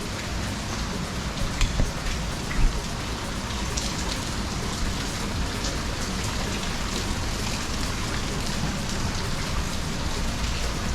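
Steady, dense rain falls at a beachfront resort in Khao Lak, a constant close hiss of drops on surfaces with a few faint thumps, and no one talking.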